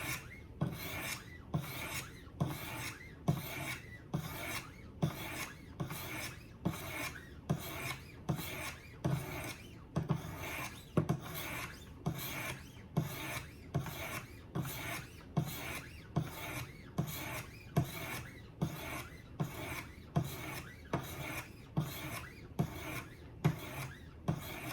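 Steady rhythmic rasping strokes of a knife blade drawn across abrasive stones on a Wicked Edge Go sharpener, sharpening at a 30-degree angle, repeating evenly about once per second, close and alone with no voices.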